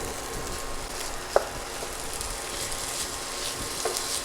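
Ham and shrimp fry in hot oil in a pan while making fried rice, producing a soft, steady sizzling hiss with one brief sharp clack partway through.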